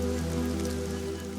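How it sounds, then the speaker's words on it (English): Steady rain patters down in the African bush, a dense, continuous hiss of drops striking surfaces close by, with no voices. "The rain is a welcome relief"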